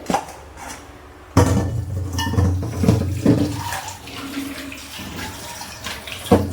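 Magur catfish being washed under running water, with a steady splash and trickle from a tap and occasional knocks of fish and dish against the basin, close and fairly loud, no talking.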